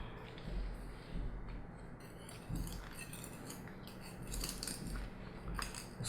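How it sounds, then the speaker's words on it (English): A knife scrapes and clinks around the inside edges of a plant pot to loosen a neon pothos from dry soil, soft intermittent metallic scratches and light taps, close and quiet. "I'm going to take the knife and I'm just going to go around the edges very carefully, trying not to damage roots"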